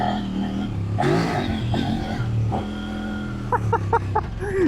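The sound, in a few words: Kove 800X Rally motorcycle 800cc twin-cylinder engine revving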